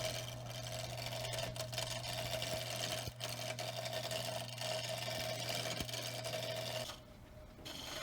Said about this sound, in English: Today I'm going to be using our small craftsman lathe that was made in 1928 and is still running with the original motor.